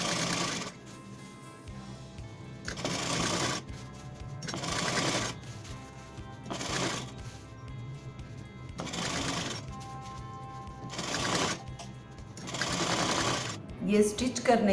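A sewing machine stitches a long gown's bodice to its skirt in repeated short bursts of rapid whirring separated by pauses, with someone talking between runs.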